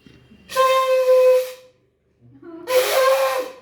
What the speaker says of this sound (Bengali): দেখি শাঁখটা বাজাতে পারি কিনা দেখি